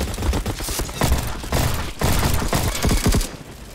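Rapid bursts of gunfire from the online shooter Bad Business, including sniper rifle shots, crackle in dense overlapping volleys with heavy thumps, loud and continuous with brief gaps across the span.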